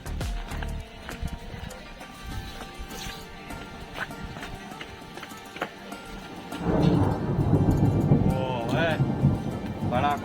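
Thunder rumbles through a windy, unseasonal rainstorm in Mahuva, Bhavnagar, with rain falling steadily throughout. The storm swells into a louder, deeper roar in the second half while people talk nearby.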